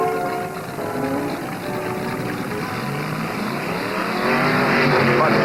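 A 1963 NHRA Nationals drag race pitting a Dodge against a Chevy, loud engines roaring steadily and building toward the end, heard from trackside amid crowd and wind noise.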